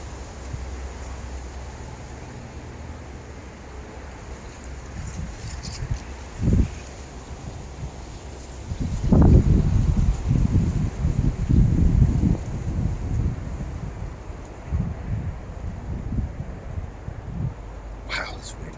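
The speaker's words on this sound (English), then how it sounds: "Wow, it's windy." Strong wind blows across a backyard garden, a steady rushing roar on the microphone that swells into heavy gusts midway, with someone talking over it.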